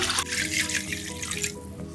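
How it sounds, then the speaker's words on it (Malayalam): Steady running room-temperature water splashes into a bowl, a continuous bright rushing stream that shifts slightly in tone partway through. "ഇനി നമുക്കിതിലേക്ക് നോർമൽ ടെമ്പറേച്ചറിലുള്ള വെള്ളം തന്നെ ചേർക്കാം"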